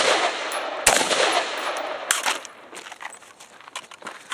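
Gunfire during a tactical shooting drill: a couple of sharp, loud cracks stand out amid dense, noisy shooting that thins to scattered quieter shots toward the end.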